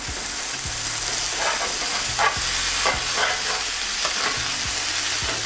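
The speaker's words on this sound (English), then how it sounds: "I'm just gonna sear it for around 2-3 minutes and then turn it" Beef sears in a hot pan with no oil, giving a loud continuous sizzle and hiss close up, with occasional clinks and scrapes as it is moved.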